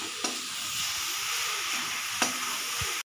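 Grated carrots with sugar stir-fry in a pan for gajar halwa, giving a steady, close sizzling hiss broken by a couple of sharp stirring scrapes.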